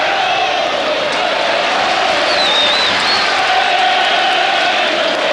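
A sellout football stadium crowd at Norwich versus Manchester United, a broad, continuous roar with a whistle-like tone rising briefly above it, under commentary.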